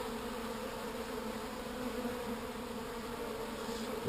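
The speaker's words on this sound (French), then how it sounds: "c'est exceptionnel de voir autant d'abeilles dehors" A dense, steady drone of many honeybees buzzing close by outside a hive, continuous and even, with no voices.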